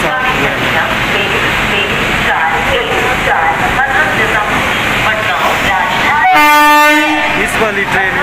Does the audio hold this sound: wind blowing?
no